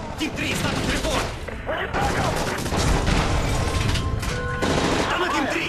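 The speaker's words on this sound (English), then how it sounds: "That's gunfire! Hijackers are taking the plane!" Bursts of rapid gunfire and booms crackle densely throughout, with voices shouting over the chaotic battle noise, from Modern Warfare 3 on Wii during a plane hijacking.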